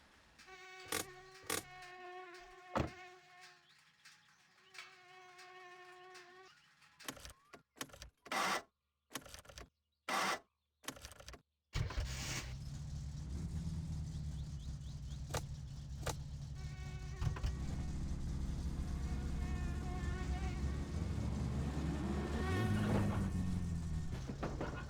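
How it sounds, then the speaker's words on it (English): Faulty car engine running loud in the video game My Summer Car: a thin harmonic whine broken by stuttering cut-outs, then a sustained, loud, rough engine drone that grows slightly louder toward the end. "Something's wrong with the engine."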